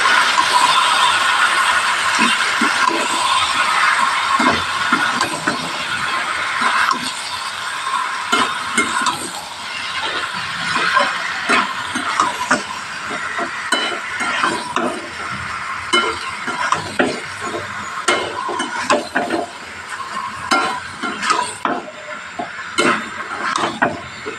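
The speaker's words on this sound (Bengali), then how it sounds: "আলুটা দিয়ে দিলাম ভালো করে তিন থেকে চার মিনিট ভালো করে কষিয়ে নেবো" Potatoes with prawns stir-fried in spices for a curry with papaya, a steady sizzle broken by frequent scraping and clacking of a spatula against the pan, close and continuous with no talk.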